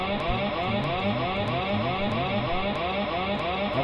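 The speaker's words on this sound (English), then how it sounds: "Next, we have our autopilot disconnected." An autopilot disconnect alarm from the HBM mod in the Minecraft video game plays as a continuous, loud, warbling electronic siren tone with rapid repeating pitch sweeps, plus faint periodic clicks, alone.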